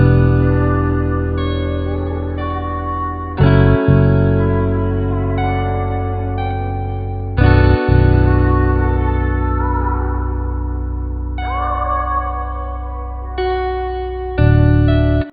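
Sad R&B guitar beat built in FL Studio, a reverb-washed guitar melody over a steady programmed beat with heavy bass, playing continuously with brief drops and re-entries, loud and without speech.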